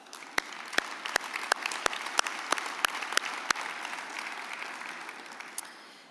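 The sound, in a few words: conference audience applause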